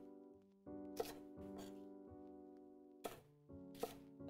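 Knife chopping vegetables on the bias for fajitas, a few separate crisp cuts spaced out over a steady tonal background hum, close and fairly quiet.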